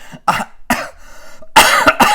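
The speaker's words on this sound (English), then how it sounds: "I got a little cough today" Several short, harsh coughs in bursts, close and loud, with brief pauses between them and a quick double cough at the end.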